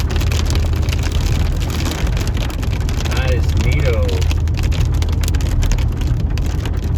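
Big fat raindrops falling during a summer storm in Wells, British Columbia, a dense steady patter close to the microphone, with someone speaking briefly over it.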